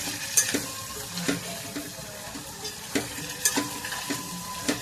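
Paneer stirred and cooked in a pan for an onion-free curry, with a steady sizzle of frying and sharp intermittent scrapes and clinks of a spoon against the pan.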